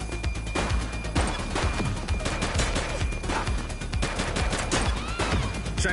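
Gunfire in the police video game The Precinct: rapid bursts of shots crack one after another in a dense, loud firefight lasting several seconds, with no speech over it.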